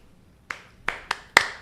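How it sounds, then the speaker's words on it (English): Four separate hand claps from a small audience, sharp and close, spaced irregularly after a quiet start in a talk-show studio setting, each louder than the last. "So can we get a clap for that?"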